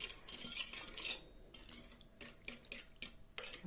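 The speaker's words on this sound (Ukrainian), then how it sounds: "Вони зараз отак я їх перемішую." A metal spoon stirs dissolving yeast in a bowl, with repeated clinks and scrapes in an irregular rhythm, close and fairly quiet, with no talking.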